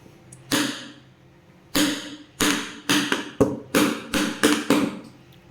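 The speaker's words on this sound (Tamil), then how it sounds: "ஒரு 2 டைம் டேப் பண்ணிங்கன்னா உங்களுக்கு ஏர் பபிள்ஸ் இருந்துச்சுன்னா ரிலீஸ் ஆகிடும்" A cake tin filled with chocolate cake batter is tapped down on a surface to release air bubbles. About nine sharp, close knocks come alone, one isolated hit, then a pause, then a quick uneven run of taps.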